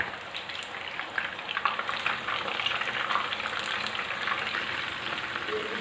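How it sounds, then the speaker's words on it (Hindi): Minced meat kebabs deep fry in oil over low heat, a continuous close bubbling sizzle with small crackles and no talking. "इनको मैं डीप फ्राई कर रही हूँ।"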